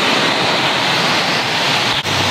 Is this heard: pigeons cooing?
no